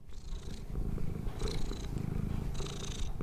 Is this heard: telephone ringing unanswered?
no